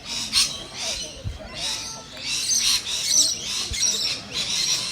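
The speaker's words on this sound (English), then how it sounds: "These birds don't stop, do they?" Birds squawk and chirp repeatedly in bursts at an outdoor house auction in Glen Waverley, their calls steady throughout with faint background voices and crowd noise.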